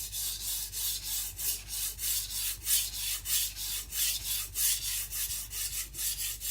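A Shibata Kotetsu gyuto knife is stroked back and forth on a coarse Shapton Pro 220 sharpening stone, a close, rhythmic gritty rasp repeating at an even pace with steady swells on each pass.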